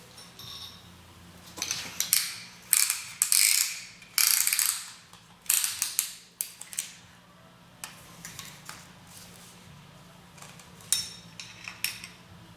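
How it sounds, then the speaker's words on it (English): A piston ring compressor being ratcheted tight around a Ford 302 V8 piston, with a series of bursts of close metallic clicking separated by short pauses, over a low steady hum. "Put this little compressor around it."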